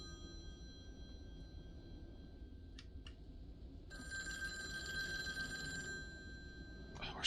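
An old telephone rings inside the horror video game Devotion, a faint, steady electronic bell burst that sounds in the middle stretch over a low ambient background hum, with short clicks before it.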